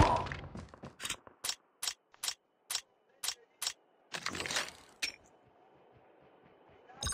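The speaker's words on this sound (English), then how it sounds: "Changing mag." A magazine being reloaded in a battle royale video game: a run of crisp mechanical clicks and ratchet-like snaps in quick, even rhythm, followed by a longer metallic rattle and a faint fading tail.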